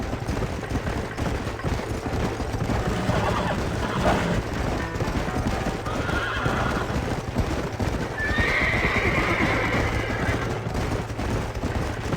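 Horses whinny and snort over steady clip-clopping hooves in Red Dead Redemption on PC, with dense game ambience and faint bursts of gunfire in the background throughout.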